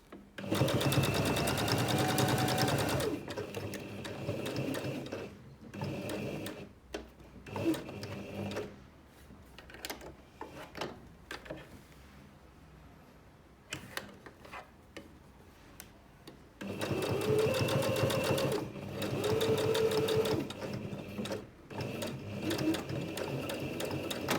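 A sewing machine runs in steady loud bursts stitching an iPad mini cover, with quieter pauses and faint ticking between runs of stitches.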